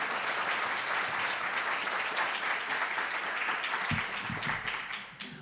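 Audience applause for a lecturer walking to the podium, steady and full from a sizable crowd in a hall, tapering off near the end.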